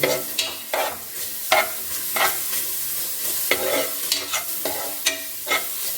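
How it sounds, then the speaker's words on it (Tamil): Grated coconut roasting in ghee in a pan, stirred with a utensil: repeated scraping strokes roughly every second over a soft, steady sizzle, close and clear, with no voices. "இப்போ இதை வந்து இதை போட்டு நல்லா வறுத்துக்கலாம். அந்த நெய்யில்"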